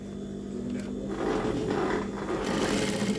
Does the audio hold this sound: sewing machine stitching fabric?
yes